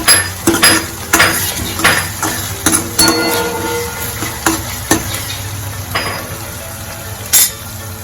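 A spoon stirs bottle gourd curry in a metal pan, striking the pan in a run of sharp, irregular clanks over a soft sizzle, loud and close, with no talking.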